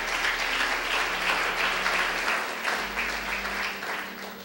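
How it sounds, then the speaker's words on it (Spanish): Sustained audience applause during a church sermon, dense and steady throughout, easing slightly toward the end. "Gracias por los aplausos."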